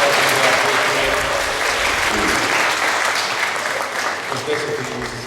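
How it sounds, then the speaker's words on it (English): Enthusiastic audience clapping at a school presentation day assembly in a hall, a loud, dense, sustained burst that tapers slightly toward the end, with a voice faintly audible beneath it. "can we give them a round of applause?"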